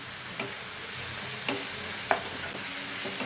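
Turmeric, chilli and pepper powder frying in a pan for chicken curry, a steady close sizzle broken by a few sharp scrapes and taps of a spoon stirring, with no voices.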